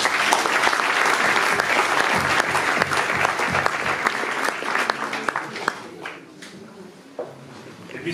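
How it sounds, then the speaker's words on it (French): Audience applause for an athlete at the presentation of the 19th Nuits-Saint-Georges night half marathon: loud, dense clapping from a crowd that holds steady, then thins out and fades toward the end. "je crois qu'on peut l'applaudir"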